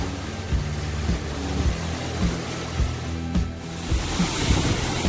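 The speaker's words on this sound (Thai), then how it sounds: "ที่ท่านเห็นอยู่นี้ก็คือน้ำตกคลองลาน" Khlong Lan waterfall in full spate after heavy rain, a dense, steady roar of rushing water with low rumbling, constant and close throughout.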